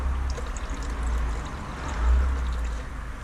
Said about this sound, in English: what I'm actually going to do is empty the coolant out of this now into this tub